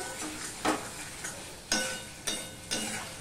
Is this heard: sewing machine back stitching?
no